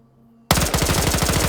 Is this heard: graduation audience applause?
no